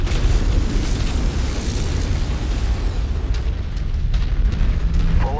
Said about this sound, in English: last kill is about to explode.